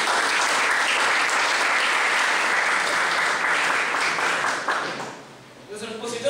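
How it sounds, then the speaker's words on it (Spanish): At a university law lecture, the audience gives loud, steady applause that dies away near the end before a voice begins speaking. "pido para darle un fuerte aplauso"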